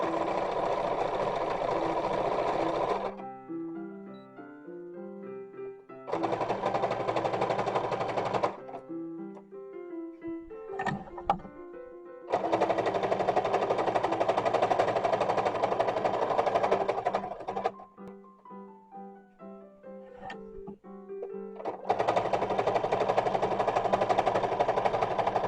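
A sewing machine stitches along the edge of a 1920s-style slip for garters, running in several long bursts of rapid, steady whirring broken by short pauses, close and fairly loud with no talking.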